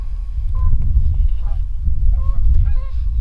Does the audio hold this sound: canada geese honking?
yes